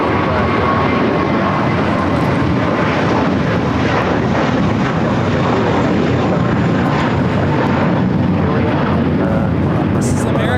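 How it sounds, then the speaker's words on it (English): An American Airlines Airbus A321 jet takes off at LAX, bound for JFK, a broad steady engine roar filling the air throughout with no clear build or fade, while voices talk over it. "This is American Airlines Flight 4 taking off to JFK on the A321."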